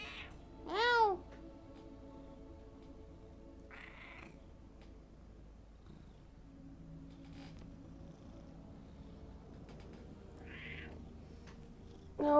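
A large cat meows several times, short rising cries spaced seconds apart, close by and fairly quiet, with a low purring rumble underneath.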